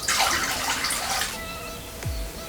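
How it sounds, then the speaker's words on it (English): Water pours into a vase of freshly arranged flowers, a bright splashing rush that runs for over a second, then tapers to a few small drips and a soft low gurgle. "I just need to add this water"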